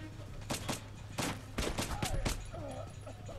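Several sharp gunshots from a gun in Metro: Last Light ring out in quick, uneven succession over a low steady hum, fairly close and punchy, with a few whooshing tones between shots.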